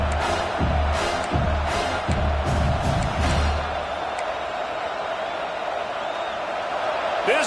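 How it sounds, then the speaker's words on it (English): A stadium crowd at a Penn State college football game roars and cheers steadily, loud and dense throughout, with a brief rise of shouts early on and no clear speech over it. "This crowd bringing the energy and noise early."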